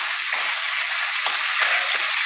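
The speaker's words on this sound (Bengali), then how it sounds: "ভালোভাবে এইভাবে মশলাটাকে কষাতে হবে মিডিয়াম টু লো হিটে।" Spice paste (masala) for an alu begun fish curry sizzles in a pan over medium-low heat, a loud, bright hiss held throughout, broken by a few brief scraping stirs.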